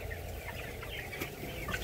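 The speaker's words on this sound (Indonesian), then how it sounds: "ayam aktif sih ya, nyaman lah istilahnya" Chickens in a coop in hot weather with a fan running, soft clucking and chirpy calls over a steady mechanical hum, close and continuous.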